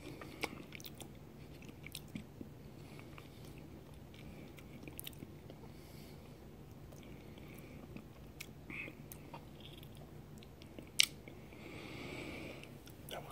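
Soft, close chewing of Jack n Jill Piattos sour cream potato chips, with gentle crunches and moist mouth sounds in a steady irregular rhythm and one sharper bite near the end.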